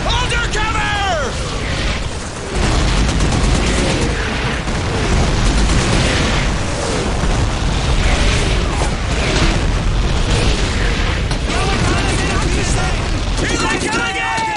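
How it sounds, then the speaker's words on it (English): A loud, continuous artillery barrage from Call of Duty 2 pounds close by with heavy booms and crashing blasts, while soldiers' voices shout through the din. "Wait for the barrage to lift!"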